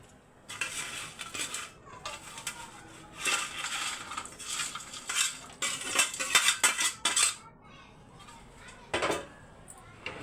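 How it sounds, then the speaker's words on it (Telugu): Fish pieces are mixed with ginger-garlic masala in a metal pan, giving a busy run of clattering scrapes and clinks, close and loud, that thins out into a few last knocks. "అన్ని చేప ముక్కలు అందులో వేసుకొని మంచిగా కలుపుకోవాలి"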